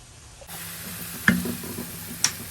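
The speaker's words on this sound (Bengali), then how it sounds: "এটা অলমোস্ট ফ্রাই হয়ে গেছে" Marinated food fries in a pan with a steady close sizzle that starts abruptly. Two brief clinks or stirring knocks stand out above the hiss, and nobody speaks.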